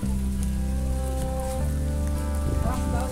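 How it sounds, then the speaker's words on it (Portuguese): Light outdoor rain falls as a continuous close hiss of drops, while a steady low hum runs beneath it throughout. "tá engrossando o sereno"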